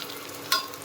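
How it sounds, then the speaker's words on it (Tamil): Onions sauté in a pan for biryani, a soft steady hiss of frying with one brief sharp scrape or crackle midway, quiet and close, with no voices. "இப்போ பாருங்கள், வெங்காயம் நல்லா கொஞ்சம் வதங்கிச்சு"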